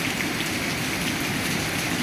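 Steady heavy rain pours down around a house, a dense unbroken hiss of drops hitting surfaces all around, with no voices.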